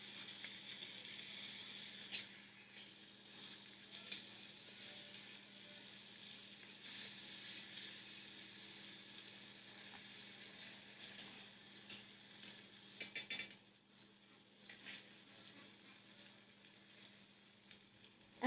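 Rohu fish pieces sizzling steadily in a hot pan with masala, with scattered scrapes and clicks as they are flipped over, close and continuous with no talk.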